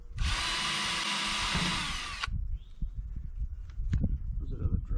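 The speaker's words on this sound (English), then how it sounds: "Let me get a couple screws put in to hold it." A power drill whirs steadily for about two seconds while driving screws into a she-shed under repair, then stops, followed by handling clatter and people talking nearby.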